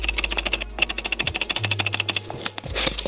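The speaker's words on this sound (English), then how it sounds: "Do you hear that? That was my spacebar." A computer keyboard clatters with fast typing and repeated spacebar presses, making a close, steady run of sharp taps that pauses briefly near the end.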